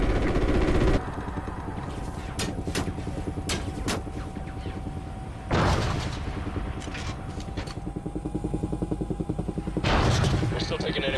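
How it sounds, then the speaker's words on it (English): Anti-aircraft gunfire in Call of Duty Ghosts, loud booming bursts at the start, middle and end over a constant rumbling engine drone, with radio chatter running through. "We're still taking enemy AA fire from behind the smokestacks."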